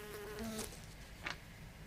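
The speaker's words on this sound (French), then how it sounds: "Non, ce bruit, il est horrible. Le pire, c'est le moustique." Small insect, a fly or mosquito, buzzing faintly in short whining passes over a quiet background on a television episode of Breaking Bad.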